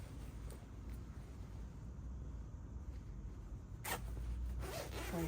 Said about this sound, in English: You can zip down.